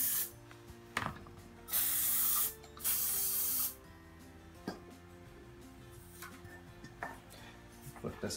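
Silicone spray hisses in two steady bursts of about a second each onto the suspension of a Bugaboo Bee stroller, close and loud, with light clicks and handling knocks around them.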